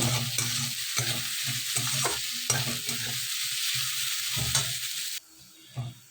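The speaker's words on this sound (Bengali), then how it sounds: "পেঁয়াজগুলোকে ছেড়ে দিয়েছি তেলের মধ্যে।" Chopped onions sizzle and crackle in hot oil for a fish curry, with repeated stirring scrapes in a steady rhythm, close and fairly loud, cutting off abruptly near the end.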